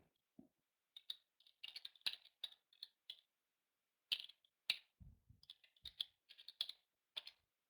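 Password being typed on a computer keyboard, heard as irregular bursts of close, crisp key clicks with short pauses between, alone without talk.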